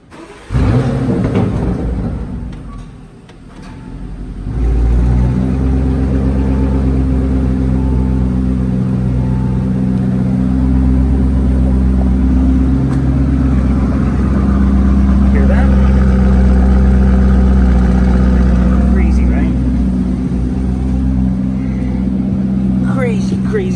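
A Lamborghini Urus Performante's engine starts and idles loudly in Corsa mode, a deep steady rumble after a brief revving surge at the start, heard close by with a voice talking over it.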